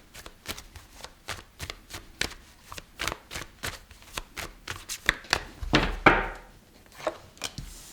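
Tarot cards are shuffled by hand in a quick run of crisp, rhythmic slaps and riffles, close and fairly loud, ending with a few heavier taps on the deck.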